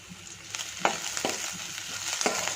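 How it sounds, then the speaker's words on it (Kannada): Curry leaves and cumin seeds frying in oil for sprouted horsegram sambar, a steady close sizzle with a few crackling pops and stirring, no voices. "ಕರಿಬೇವಿನ ಸೊಪ್ಪು ಹಾಕ್ಕೊಳ್ತಾ ಇದ್ದೀನಿ ಅದ್ರ ಜೊತೆಗೆ ಒಂದು ಎರಡು ಸ್ಪೂನಷ್ಟು ಜೀರಿಗೆನ ಸೇರಿಸ್ತಾ ಇದ್ದೀನಿ ಇದನ್ನೆಲ್ಲನೂ ಸ್ವಲ್ಪ ಚೆನ್ನಾಗಿ ಫ್ರೈ ಮಾಡ್ಕೊಳ್ತೀನಿ"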